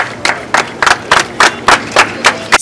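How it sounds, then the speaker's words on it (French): Clapping at the opening of a real-estate and modern building-materials trade fair: a small group claps in an even, rhythmic beat of distinct, close hand claps, about three per second. "Ça s'applaudit, s'il vous plaît."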